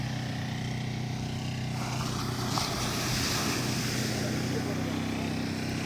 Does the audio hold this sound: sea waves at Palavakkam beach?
yes